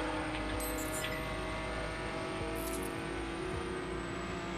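Car engine held at full throttle in The Crew, a steady continuous roar with a sustained high whine, constant and loud throughout with no break.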